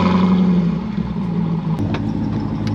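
A Jeep Trackhawk's engine growls and revs as the SUV pulls away from a driveway, a steady loud rumble that rises slightly, with no talking.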